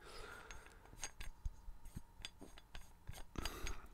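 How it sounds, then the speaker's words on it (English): A plastic bottle cap is screwed and unscrewed close up, giving quiet repeated clicking and ratcheting ticks in an uneven rhythm with no talking. "The sound of screwing and unscrewing a cap."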